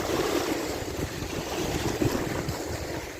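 Wind-driven waves on a dam lake wash and slap steadily at close range during midday fishing, with heavy wind buffeting the microphone and no voices.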